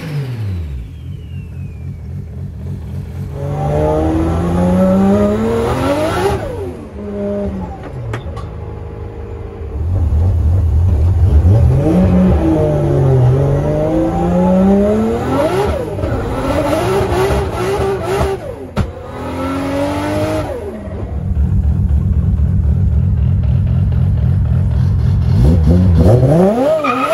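A 400 kW Nissan Skyline R33 drift car, being prepped with GTR diff and shafts, revs loudly nearby, its engine climbing and falling through repeated gear changes and throttle blips with brief lulls between pulls.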